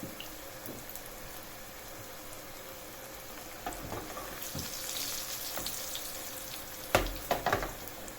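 Yogurt pişi dough drops into hot oil and fries with a low steady sizzle, faint at first, then bursts of crackling and a few sharp pops as it puffs up.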